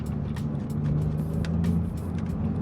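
A salvaged Vauxhall Vectra VXR engine idling with a low, steady purr and a deep hum, heard from close by alongside faint rattles and clicks.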